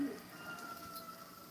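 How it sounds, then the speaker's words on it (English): Faint, soft cooing from pigeons or doves blends into a hazy, noisy background. The calls are low and distant, with no clear talking. "These birds mate for life."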